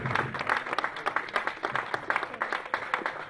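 A church congregation claps and applauds in quick, steady, moderately loud rhythm, with some voices mixed into the clapping.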